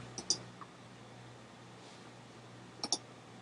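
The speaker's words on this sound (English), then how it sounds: "So I'll click back on here to review the clip." A computer mouse clicks in two quick pairs a few seconds apart, crisp and close against a quiet, faintly humming room.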